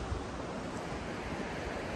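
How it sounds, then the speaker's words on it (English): A babbling brook or mountain river in Switzerland near a bridge and roadway, a steady close rush of flowing water that fills the whole stretch without a break. "Sound of the babbling brook or river."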